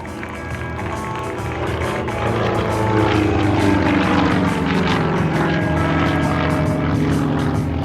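A Yak-50 aerobatic airplane at an air show tumbling through outside snap rolls, its radial propeller engine roaring loud and continuous with a rising and falling drone and pulsing surges.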